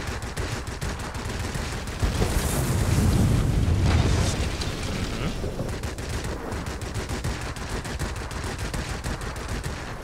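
Anti-aircraft flak bursts in the video game World of Warplanes: a loud, dense barrage of rapid popping blasts over a steady roar, with a heavier rumbling boom swelling in the first half, continuous and close throughout.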